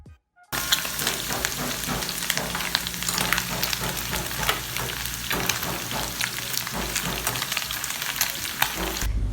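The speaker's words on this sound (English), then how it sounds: "I'm going to go ahead and fry my onions and my green pepper in a different pot. I'm just going to go ahead and stir." After a brief quiet start, onions and green pepper hit a pot and fry loudly and close. A dense sizzle is broken by frequent stirring clatter from the spoon, for a Cameroonian stir-fry pasta.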